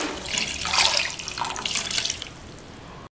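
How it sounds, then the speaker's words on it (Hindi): Water is poured into a pressure-cooker pot of chicken for shami kabab, a close, splashing gush that swells and eases for about three seconds before stopping abruptly. "और अब इसके अंदर चला जाएगा पानी।"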